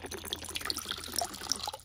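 Water poured from a plastic water bottle into a small tarantula water dish, a short, close trickling and splashing that runs steadily for under two seconds, with no voices.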